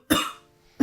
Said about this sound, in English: I'm coughing now too.